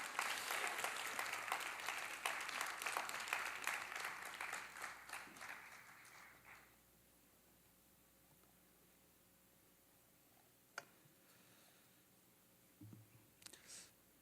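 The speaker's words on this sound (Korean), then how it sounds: "우리 큰 사랑의 박수, 감사의 박수로 맞이해 주시겠습니다." Warm congregation applause in a church welcoming a pastor to lead an evening service, loud and dense for about six seconds, then dying away into quiet room tone with a couple of stray clicks and a soft thump.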